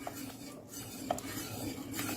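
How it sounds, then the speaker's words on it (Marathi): A utensil briskly mixes rice flour batter in a metal pot, soft repeated scraping with a few light clinks against the pot, close and fairly quiet, with no talking. "पटपट मिक्स करून घ्यायचं."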